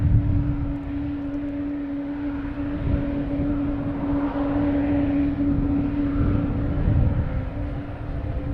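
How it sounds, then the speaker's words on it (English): An American Airlines Airbus A319 departing Boston Logan produces a steady, moderately loud engine drone with a sustained tonal hum, swelling slightly midway and holding throughout. "Here's the American Airlines A319 heading to Philadelphia."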